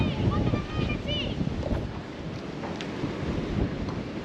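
Strong wind of around thirty miles an hour gusts across a fishing canal, a steady loud rush buffeting the microphone throughout, with faint birdlike chirps and water noise underneath.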